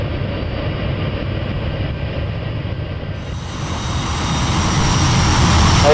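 A Hawker Hunter jet flying over Snowdonia near Valley produces a loud, steady engine roar that swells and grows louder toward the end, with no voices.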